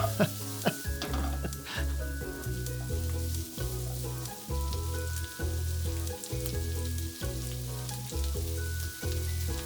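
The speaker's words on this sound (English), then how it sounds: "Give them a good stir around so they cook evenly." Pork stir-fried in yellow bean sauce in a wok, a steady close sizzle broken by repeated scraping and clattering strokes of the spatula as it is stirred and tossed, with no talking.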